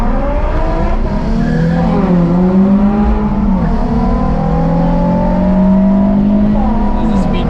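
A Nissan 350Z with near-stock upgrades pulls hard under throttle, its engine note climbing in rising harmonic sweeps that hold loud and close, with a brief higher squeal near the end.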